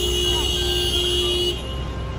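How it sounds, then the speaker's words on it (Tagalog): A car horn on a rainy New York street sounds in a sustained loud honk over traffic noise, cutting off after about a second and a half. "Mahilig bumusina mga tao."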